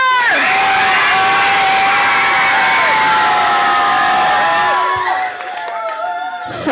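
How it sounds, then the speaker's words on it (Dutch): A loud crowd at a concert in Bergschenhoek cheers for two girl performers, with sustained high-pitched screaming and whooping from many voices, mostly children, and some clapping beneath, easing slightly near the end. "Mag ik een applaus voor de meiden?"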